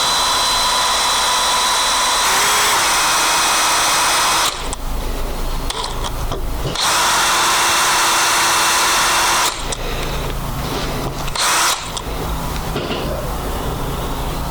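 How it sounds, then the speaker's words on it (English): A power drill bit boring into a hardened snap ring in a 1976 Jeep CJ-5 T-150 transmission, loud steady whine in long bursts with pauses and clatter between them. "So I'm going to do a little sample here with a drill bit"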